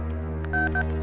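A telephone keypad produces a short run of dual-tone dialing beeps, several brief clear tones in quick succession over a steady low electronic hum, close and distinct.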